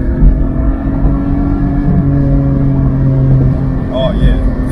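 A 2022 Porsche 718 Boxster Spyder engine pulls steadily under hard driving, a sustained droning engine note with a brief squeal near the end, and a voice speaks over it.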